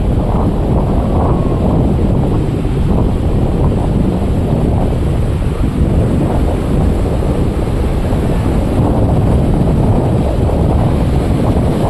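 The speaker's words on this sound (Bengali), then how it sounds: "এবারে তো বিভৎস ঢেউ দিচ্ছে" Strong sea waves crashing at a beach, a continuous loud rumbling surf mixed with wind buffeting, with no speech.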